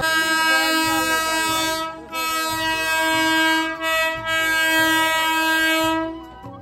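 Bangaon AC local train pulling into a station, its loud, sustained multi-tone horn sounding in long blasts with short breaks over a low rumble of wheels.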